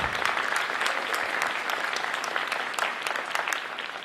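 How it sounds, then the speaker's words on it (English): Audience applause for Dr. Joanne Thomas Buchanan, a dense, steady roar of many hands clapping close by, holding evenly throughout without a break. "Let's give her a round of applause."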